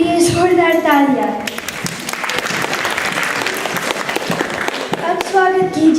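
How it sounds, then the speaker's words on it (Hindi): Loud audience applause breaks out at a Hindi youth stage comedy show, dense clapping filling the middle of the clip, with a presenter talking over it at the start and end. "श्रीन के लिए जोरदार तालियां।"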